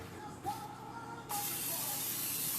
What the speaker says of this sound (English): So we're going to spray our baking dish.